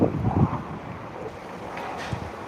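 Strong wind buffets the microphone in rough gusts, rumbling and whooshing loudly at first, then easing to a steadier blustery roar.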